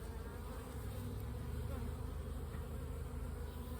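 Honeybees swarm around a swarm trap, a dense continuous buzz of many insects at close range, steady throughout with no talking.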